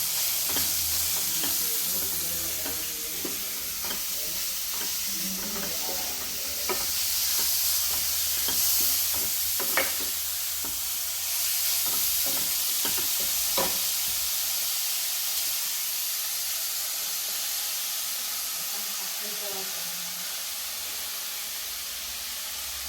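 Grated carrot for gajar halwa is stirred while frying in a large pan, a steady broad hiss of sizzling with faint, scattered scrapes and taps of the spoon, no talking.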